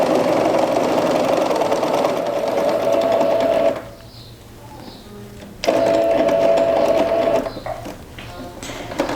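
A Brilance sewing machine stitching: a steady, close mechanical whirring hum that stops for about two seconds, then resumes and fades near the end.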